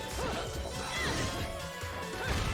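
Horses whinny and neigh amid crashing, smashing impacts in Bayonetta, a dense, loud and continuous clamor of combat sounds.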